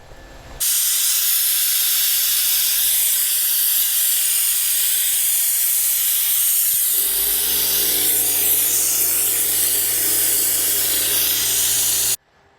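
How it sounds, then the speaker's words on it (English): An oil extractor pulling used oil from the engine of a Ram ProMaster City van: a loud, steady suction hiss that starts abruptly, deepens partway through into a lower gurgling rush, and cuts off sharply at the end. "I'm going to use my oil extractor to pull the used oil out."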